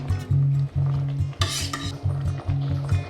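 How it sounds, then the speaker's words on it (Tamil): Chicken biryani of seeraga samba rice being stirred with a spoon in a pot after a cup of drained rice water is added, giving steady scraping and clinking strokes close up over a low hum, with a brief brighter sizzle midway. "நல்லா கலந்துக்கோங்க."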